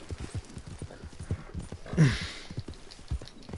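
A horse's hooves clip-clop in a steady rhythmic gait across the ground in Red Dead Redemption 2, close and clear, with a brief snort or whinny midway.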